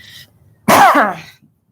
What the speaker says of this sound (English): I just have to get rid of this cough